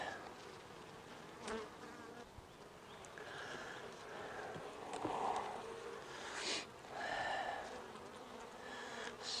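Honey bees buzz steadily around an open hive during an inspection in the dim light of a solar eclipse, a dense drone that swells louder in several passes as bees fly close by, with no talking.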